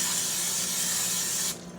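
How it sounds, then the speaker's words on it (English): Buttery cooking spray from an aerosol can hisses onto the top of an apple cobbler in one steady, close burst of about a second and a half before cutting off. "I'm going to spray the top with some cooking spray, the buttery kind"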